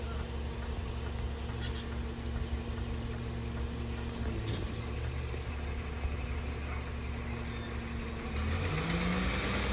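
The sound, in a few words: garbage truck engine idling and driving off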